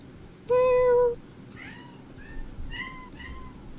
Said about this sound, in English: Just a very inappropriately loud meow.